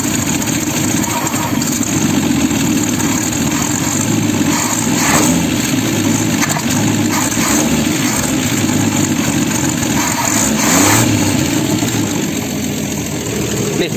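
A Ford Falcon engine with a loose accelerator and no radiator runs steadily up close, a rough continuous drone with slight swells in revs throughout, no voices over it.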